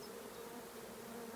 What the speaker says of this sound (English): And they go, fanning away like mad.